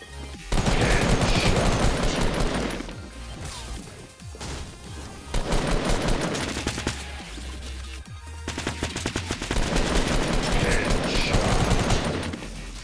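Minigun fire in Fortnite: long, loud, rapid bursts of spinning-barrel gunfire, separated by brief lulls filled with crashes and impacts, with three main sustained volleys.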